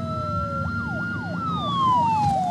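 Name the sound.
police siren in the video game Uncharted 4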